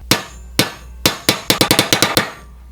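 A hammer pounding the end of a long electrical conduit pipe to flatten it, a dozen sharp metallic strikes, spaced at first, then coming in a quick rapid run, loud and close with short ringing decays.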